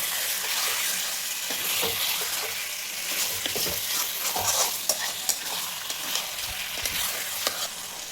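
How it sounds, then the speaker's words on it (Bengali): Mutton curry masala with potatoes being sautéed and stirred in a pan, giving a continuous close sizzle broken by frequent scraping and knocking from the spatula. "এখন কষতে থাকবো"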